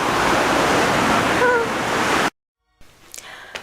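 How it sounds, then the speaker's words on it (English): Broad, loud rushing roar of a mountain stream on Kilimanjaro's Machame Route fills the first two seconds close up, then cuts off abruptly to near silence. "the little stream we saw down Karanga Valley actually gets as big as this, and this is what flows into the Indian Ocean"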